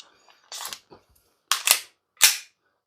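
A G&G Piranha SL gas blowback airsoft pistol fires three sharp, close cracks, each with a quick snapping cycle of the slide and short pauses between them.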